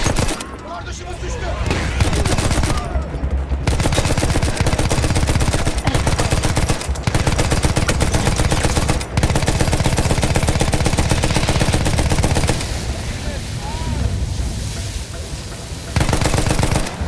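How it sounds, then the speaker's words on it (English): Sustained machine-gun fire in the Battlefield 1 PC game, a loud continuous rattle of rapid shots with a few brief pauses, mixed with battlefield noise and a voice talking over it. "There's a machine gun right here."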